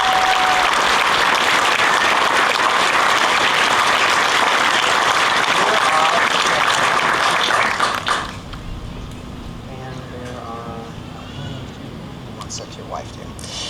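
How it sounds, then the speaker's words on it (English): Loud crowd applause for a family at an outdoor Flag Day monument dedication, dense clapping that cuts off sharply around eight seconds, after which a speaker talks over a quieter background. "Can we get a big round of applause for the Christensen family?"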